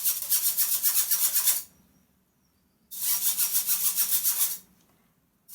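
A metal spoon scraped round and round a kitchen sieve imitates bicycle wheels, giving two bursts of rapid, rhythmic bright rasping, each lasting well over a second, separated by a short silence.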